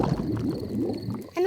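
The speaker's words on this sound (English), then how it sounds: "My tummy rumbling is one of the best sounds of nature." A cartoon tummy rumbles in a low, bubbly, gurgling churn that runs steadily for over a second, ending in a brief rising squeak.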